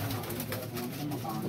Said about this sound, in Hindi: अच्छे कबूतर हैं, उड़ाने वाले कबूतर हैं जी।